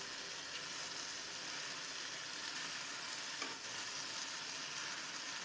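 Okra stirred in a hot pan over a medium gas flame, a steady close sizzle with soft scraping of the spoon running throughout, no voices.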